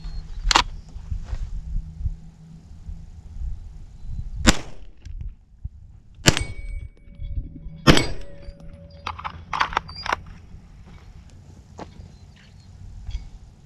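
HK VP9 pistol fired at a backyard range: several sharp, loud single shots spaced a second or two apart, with faint clicks and quiet outdoor background between them.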